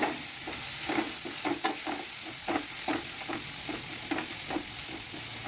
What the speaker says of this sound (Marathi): आता हे चांगलं परतून घेऊ.